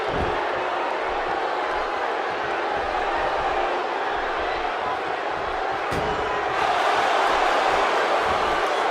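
A wrestling arena crowd at a pay-per-view event roars in a steady, dense wall of cheering and shouting that swells louder near the end, with a sharp impact-like slam partway through.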